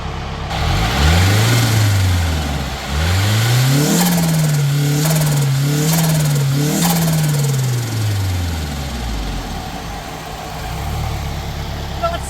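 A car with an SR20DET engine idling with a steady low rumble, then revved a few times in quick rising and falling bursts before settling back to idle.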